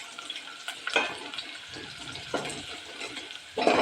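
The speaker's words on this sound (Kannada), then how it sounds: "ಈರುಳ್ಳಿ ಚೆನ್ನಾಗಿ ಫ್ರೈ ಆಗಬೇಕು" Onions fry in a pan on a gas stove, a soft sizzle broken by several louder bursts of hissing and stirring scrapes, close and fairly quiet between them.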